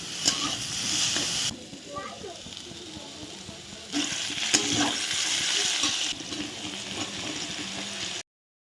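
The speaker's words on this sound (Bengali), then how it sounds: "তো আমি আগে আলুগুলো ভেজে নিচ্ছি একটুখানি লবণ আর হলুদ দিয়ে।" Potatoes fry in a pan with salt and turmeric, giving a soft sizzle and hiss that swells and drops back in several bursts, with a voice faintly present at moments.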